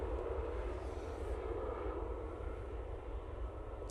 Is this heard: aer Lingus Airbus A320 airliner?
yes